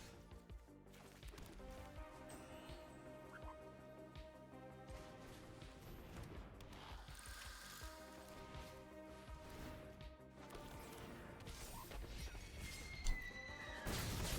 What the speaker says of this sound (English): Ida, the horse is here